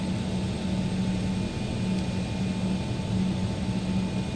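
Steady, loud jet engine roar and airframe rumble from an X-Crafts Legacy 650 business jet rolling for takeoff in X-Plane 12, constant throughout with a faint tonal whine on top.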